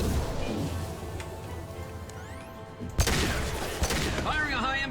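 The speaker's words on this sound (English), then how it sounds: "Firing a high impact shot." A high impact shot is fired in Mass Effect 2, with a sharp, loud blast partway through and a second, smaller impact after it. Dense game noise and a voice run underneath the whole time.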